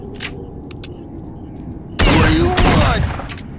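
Gunshots in S.T.A.L.K.E.R.: Shadow of Chernobyl: a few faint clicks and sharp ticks over a low hum, then two loud, close blasts in quick succession with a heavy rumbling tail.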